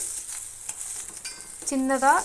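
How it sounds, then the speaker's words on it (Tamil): Mustard seeds, cumin and urad dal tempering in hot oil in a kadai, a steady crackling sizzle with stirring scrapes, swelling into louder popping near the end. "கடாய் அடுப்பில் வச்சு தேவையான அளவு எண்ணெய் ஊற்றிட்டு கடுகு, ஜீரகம், உளுந்தம்பருப்பு இதெல்லாம் போட்டு தாளித்து விட்ருக்கேன்"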